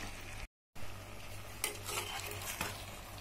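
Chicken cooking uncovered in an open pan, stirred with a metal spoon that clinks and scrapes against the pan over a soft sizzle, broken by a short moment of silence early on.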